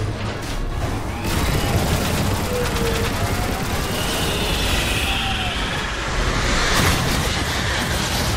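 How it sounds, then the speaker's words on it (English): Gunfire in the Transformers: War for Cybertron video game, dense sustained shooting and blasts filling the whole stretch, loud and close with rumbling game effects underneath. "Oh, he's still shooting."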